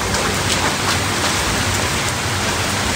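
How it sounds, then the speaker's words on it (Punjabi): Steady rain pours down outdoors, a dense, even hiss of drops hitting the ground with no voices, loud and close throughout. "ਕਿਤੇ ਮੀਂਹ ਪੈ ਗਿਆ"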